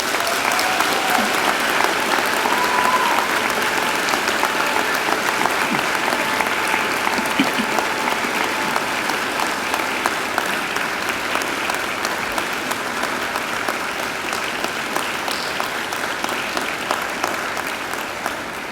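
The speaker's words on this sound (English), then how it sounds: "And now I invite you to give them a mighty round of applause." A graduation audience of families and friends applauds the graduates in a large hall, a dense, steady wash of many hands clapping that holds loud and even for the whole stretch, tapering only slightly near the end.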